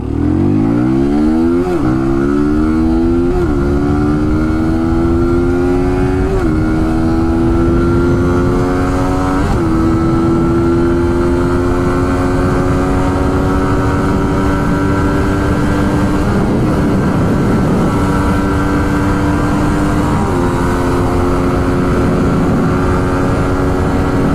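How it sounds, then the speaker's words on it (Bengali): A motorcycle engine drones loudly and close while being ridden, repeatedly revving up through the gears with rising pitch and brief dips at each shift, continuous with no talk. "আচ্ছা তো আমি বাইকটা রাইড করতেছি"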